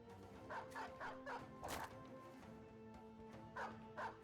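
War dogs in the video game Battle Brothers bark and yip in repeated bursts while attacking, mixed with brief crashing combat noise over a steady game backdrop.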